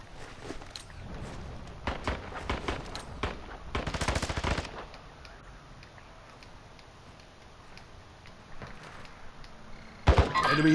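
Rapid automatic gunfire from the Call of Duty video game crackles in dense bursts for the first few seconds, thins to scattered distant shots, then one sharp close burst near the end.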